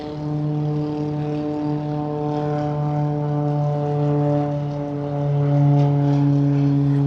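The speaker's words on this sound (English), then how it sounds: "There goes the seaplane taking off." A seaplane's propeller engine drones steadily as the aircraft takes off on the East River in New York, a loud sustained hum with strong even harmonics that swells slightly toward the end.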